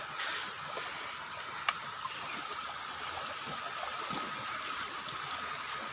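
Rain falls beside a flowing forest stream, the Mae Kon creek, in a steady, broad hiss with a few brief splashes and no talking.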